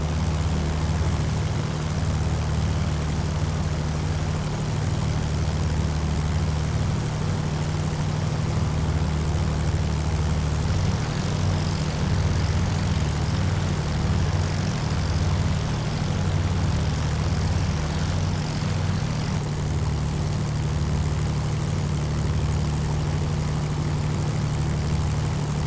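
A Hawker Hurricane engine drones steadily in flight over Kent, a loud, continuous propeller roar that holds without a break throughout.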